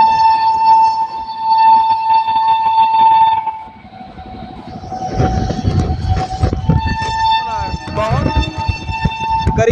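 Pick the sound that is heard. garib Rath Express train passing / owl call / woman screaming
garib Rath Express train passing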